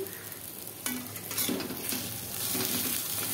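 Potatoes frying with chili and onion in a pan are stirred with a utensil, giving a steady close sizzle broken by scraping and clinking strokes against the pan, with no talking.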